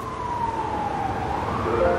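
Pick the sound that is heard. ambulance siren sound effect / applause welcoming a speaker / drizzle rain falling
ambulance siren sound effect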